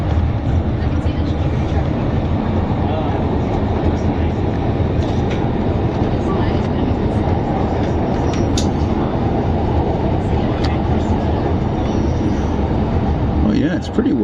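Passenger riding a Siemens REM light-rail train in Montreal in the evening, with a constant loud rumble of wheels and motors throughout and occasional faint clicks and squeals. Voices can be heard over the noise.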